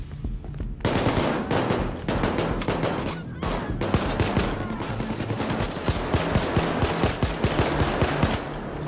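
Rapid, loud gunfire rattles almost nonstop during a co-op Payday 2 nightclub heist, shots following each other in quick succession with dense overlapping bangs.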